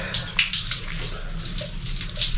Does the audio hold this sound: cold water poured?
yes